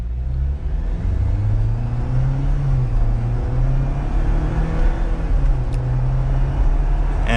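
A 2022 Jeep Wrangler Willys 4x4 with an 8-speed automatic pulls away from a standstill, its engine rising in steady, smooth pitch sweeps through the gears under continuous road and cabin rumble.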